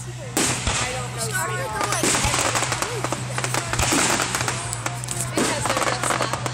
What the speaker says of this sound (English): How did fireworks do this?